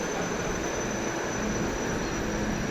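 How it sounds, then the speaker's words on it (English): Inside Munich Hauptbahnhof, a big train station, a steady, dense wash of rumbling noise and general crowd murmur continues without pause at a moderate level, with no clear voices. "It's a big train station here"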